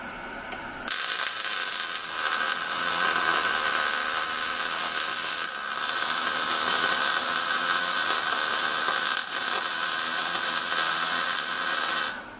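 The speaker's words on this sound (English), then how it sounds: "I'm going to run a bead using the push and pause technique" A welding bead is run with a push-and-pause technique, giving a loud, steady crackling hiss from the arc that holds for about eleven seconds, then stops abruptly. No one speaks.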